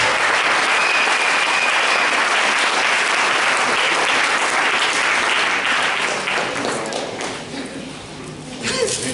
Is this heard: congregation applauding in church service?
yes